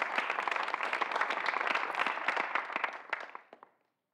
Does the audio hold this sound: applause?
yes